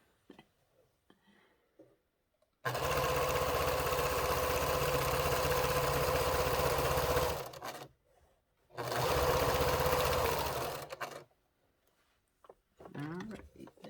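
A sewing machine stitches a pillowcase in two steady, close, continuous runs of humming motor and needle clatter, separated by brief pauses and quiet handling noises.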